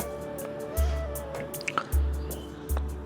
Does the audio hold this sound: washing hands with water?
yes